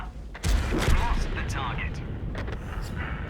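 A tank cannon fires in World of Tanks while a Skoda T50 light tank fights in a battle, one heavy boom standing out against dense rumbling combat noise, with other distant blasts and a voice talking underneath.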